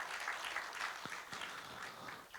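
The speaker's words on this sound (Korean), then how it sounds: "박수 한번 주셔야 되는데" Faint, distant applause from an audience at a public debate forum, a soft continuous patter of clapping with a couple of sharper knocks.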